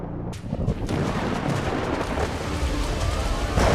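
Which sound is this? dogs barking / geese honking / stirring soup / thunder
thunder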